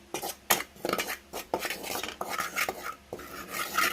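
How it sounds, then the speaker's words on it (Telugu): Wheat flour is stirred as it dry-fries in a pan. A utensil scrapes and knocks against the metal in quick, repeated strokes, close and fairly loud, with no talking. "చక్కగా ఇలా తిప్పుతూనే మనం వేపుకోవాలి."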